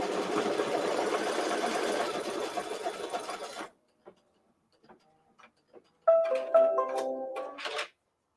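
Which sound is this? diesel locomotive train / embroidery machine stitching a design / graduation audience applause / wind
embroidery machine stitching a design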